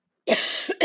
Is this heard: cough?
yes